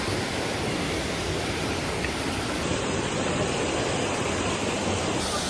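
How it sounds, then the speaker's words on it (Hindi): A waterfall near Manali, reached by a trekking trail of steps and dirt path, roars as a steady, dense, loud rush of falling water that holds constant and alone throughout, with no voices. "देखिए क्या खूबसूरत वाटरफॉल है"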